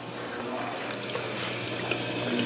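An old-school water fountain running with a steady, soft hiss and splash of flowing water, close by and continuous, with faint background voices.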